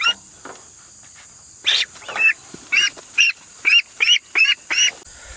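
Pekin ducks out on pasture quacking, a series of about eight loud, evenly spaced calls close by, with a faint steady insect hum behind them.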